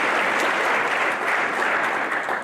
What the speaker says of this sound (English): Please give our sponsors a warm round of applause.